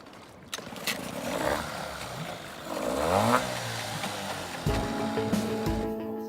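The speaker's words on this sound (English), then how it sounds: "Is the dinghy outboard playing up again?" Dinghy outboard motor on a sailboat tender, revving unevenly and rising in pitch, then settling into a steady clattering idle, fairly close and loud, with no voices.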